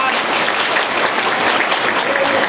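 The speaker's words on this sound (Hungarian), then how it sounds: "szeretnék egy hatalmas tapsot kérni az ifjúpárnak" Wedding guests give the newlyweds a burst of loud, dense applause that holds steady throughout, with some voices faintly mixed in.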